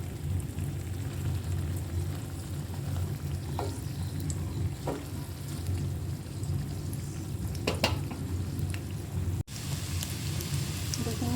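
Dory fish kebabs fry in a shallow layer of oil, giving a steady close sizzle with a few soft clinks and a sharp click near the end, with no voices.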